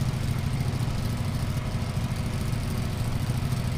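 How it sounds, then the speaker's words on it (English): A Cessna 152 aircraft engine in a flight simulator game, a steady buzzing drone like a lawnmower, constant and fairly loud throughout with no talking. "it sounds like a lawnmower"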